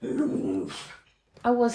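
A dog barks and growls close by in two short bursts, while a person talks over it.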